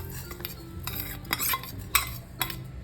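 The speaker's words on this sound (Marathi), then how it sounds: "लगेचच ते पॅन पण गरम झालेलं आहे ना तर लगेच हे चटचटतं आहे" Salted, turmeric-coated flax seeds roasting in a hot pan on a gas stove for a mukhwas mix, with sharp scattered crackles and pops over a low sizzle and a few stirring scrapes, close by.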